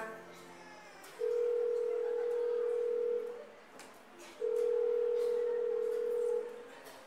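A telephone line gives two long, steady ringback tones with a short gap between them while a call is placed, each tone loud and even over a quiet room background, with no talking.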